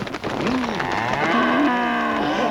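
A cow moos in a 1987 French TV advertisement for Saint-Florigny cheese, a long, loud, drawn-out low call with wavering pitch, heard up close and alone.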